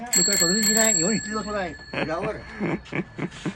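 The bell on a new Hero bicycle rings in quick repeated dings, clear and close, while people talk over it and keep chatting afterward.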